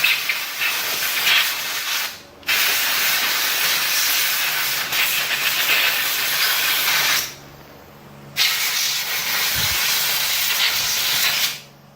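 Compressed air blasts gunk out of a brake caliper on a 2009 Yamaha Grizzly 700 ATV, in three long, loud hissing bursts separated by brief pauses.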